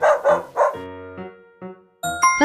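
Three quick cartoon-style dog barks in a row, followed by a few bright chiming tones in a children's learning setting.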